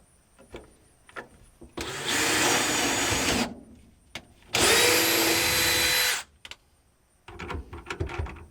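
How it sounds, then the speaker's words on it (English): A power drill bores pilot holes into wood in two sustained, loud whirring bursts of about a second and a half each, with softer clicks and handling noise between them. "Alright, we got our pilot holes drilled."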